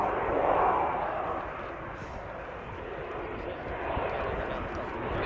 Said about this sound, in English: here comes the Belgian F-16-4, the slow-speed pass that you were mentioning